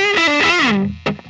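Distorted electric guitar played through the neck pickup of a 2012 Gibson Les Paul BFG, a raunchy, woody chord ringing loud, then a second short strum near the end.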